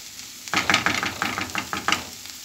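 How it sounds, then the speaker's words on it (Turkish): Cabbage stir-fried with onion and oil in a Turkish kavurma dish: a hissing sizzle with a quick run of scraping, tossing stir strokes, close up and with no talking. "Bunu böyle iyice şöyle bir soğanla yağla bir buluşturayım."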